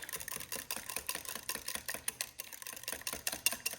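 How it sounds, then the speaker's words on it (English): A fresh egg whisked by hand in a bowl, a steady quick clatter of rapid small clicks running throughout at moderate, fairly faint level with no talking. "Give it a whisk."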